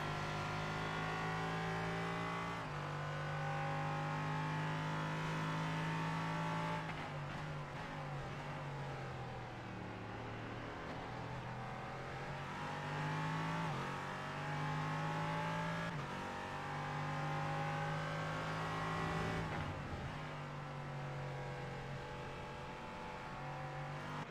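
Race car engines in a racing video game at the Red Bull Ring, a loud continuous drone that rises in pitch and drops sharply at each gear change, repeating several times.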